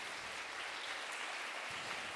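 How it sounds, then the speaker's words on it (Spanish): A church congregation claps together during a Spanish-language sermon, a steady, even wash of applause at moderate level with no voices standing out. "Dale un aplauso a Jesús"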